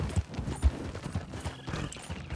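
Horse hooves clatter over rocks in the video game Red Dead Online, a quick string of uneven clip-clop thuds at a moderate distance with no talking.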